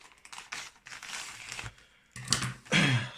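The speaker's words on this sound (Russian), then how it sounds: "Начинаем распаковку" Plastic packaging from a mailed parcel crinkles and rustles in bursts as it is opened, close and moderately loud, with brief pauses between handling.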